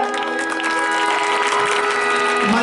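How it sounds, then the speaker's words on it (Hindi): Applause greeting the chief guests at the opening ceremony of a village Ram Leela, steady dense clapping from a gathered crowd throughout, with a sustained tonal hum and some voices mixed in. "तालियों से स्वागत किया जाए।"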